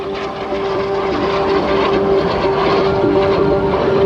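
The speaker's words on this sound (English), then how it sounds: "He's got the L-39 reverse diving back in. He's got the speed now over 400 miles per hour." An L-39 jet diving at over 400 miles per hour during an airshow display along a shoreline, a loud, steady roar with a sustained tonal whine and no voices.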